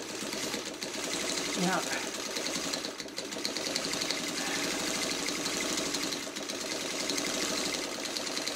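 A sewing machine stitches a fabric coaster with a steady, rapid mechanical whir that runs nearly continuously, briefly slowing, while a person speaks quietly over it.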